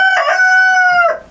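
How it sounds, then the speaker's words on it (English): A noisy rooster crows once, a loud, close, drawn-out call that rises, holds steady and drops off at the end, heard alone with no talk. "I thought we got rid of the noisy rooster, but apparently not."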